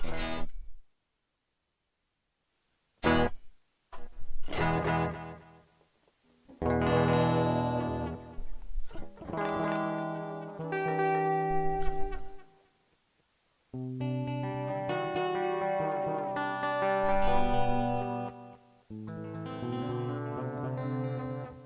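An Arturia MiniFreak synthesizer plays sustained tones and short phrases run through a delay effect, with echoing repeats trailing off between gaps of silence.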